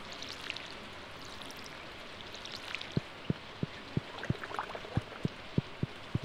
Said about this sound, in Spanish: está lloviendo otra vez